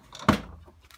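The door lock of an Essentials washing machine is handled. One sharp plastic clack stands out, followed by faint rattling clicks close by in a quiet room.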